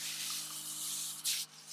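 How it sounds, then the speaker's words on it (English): A hand sprayer misting a plant in a greenhouse, giving one short hissing burst of spray near the end over a steady low background hum. "Then I'll step back and I'll actually spray the top of the plant."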